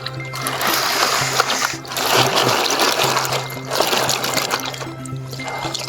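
Water splashes and trickles steadily over freshly caught black crabs being rinsed clean after a night's traditional crab catching in Maharashtra, with a continuous close, wet sloshing and pouring sound throughout.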